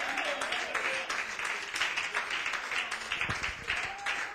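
A church congregation at an Easter service in Paris claps, a dense patter of many hands at moderate distance, with a voice speaking over it.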